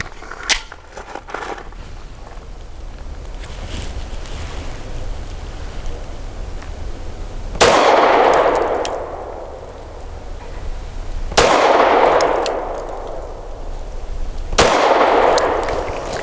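An FN 509 Midsize pistol fires Federal Punch 124-grain jacketed hollow points outdoors, three loud sharp reports spaced a few seconds apart, each with a ringing decay over steady background noise.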